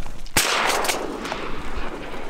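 A single loud, close shotgun blast while duck hunting teal on a public marsh in Nebraska, followed by a sharp echoing decay over steady outdoor background noise.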